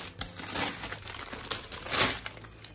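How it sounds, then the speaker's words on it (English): Plastic bags holding meal-kit food crinkle and rustle steadily as they are pulled out of an insulated delivery box, loud and close with no talking. "The bags come like this, they're in plastic bags. And then when you pull all of them out"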